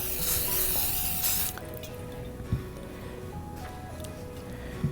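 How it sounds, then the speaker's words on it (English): Spray butter from an aerosol can is sprayed onto a skillet in a kitchen, giving a loud, close hissing spray of about a second and a half, followed by quiet room noise with faint clicks. "what you're going to do is spray it onto your skillet"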